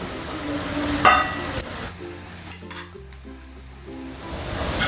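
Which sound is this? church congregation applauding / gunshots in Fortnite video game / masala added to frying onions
masala added to frying onions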